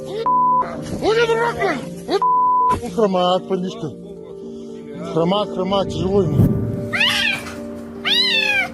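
A kitten meows repeatedly, high and plaintive, mixed with music and electronic beeps, with a voice speaking over parts of it.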